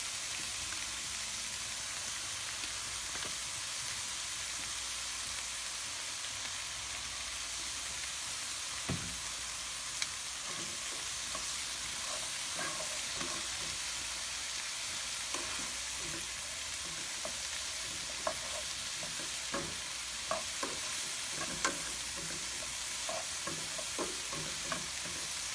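Mushrooms frying in grapeseed oil make a continuous, moderately loud sizzle with frequent small pops and crackles, heard up close with no voices.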